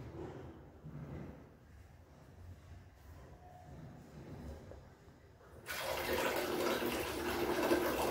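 Water gushes from the tap of a 3-litre electric geyser just fitted with a new heating coil. The flow starts abruptly after quiet handling sounds and then runs steadily and close.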